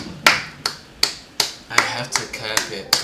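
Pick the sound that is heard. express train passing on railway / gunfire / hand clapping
hand clapping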